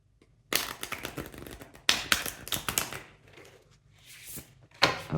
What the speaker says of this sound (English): Just going to shuffle good in order to refresh the energies.